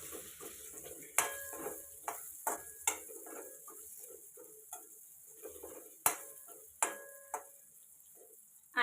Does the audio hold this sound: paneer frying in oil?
yes